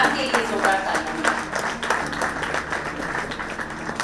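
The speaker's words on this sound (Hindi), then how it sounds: "एक बार मैम के लिए जोरदार तालियां।" An audience at a women achievers' award ceremony gives a round of applause, dense steady clapping filling the room from start to finish.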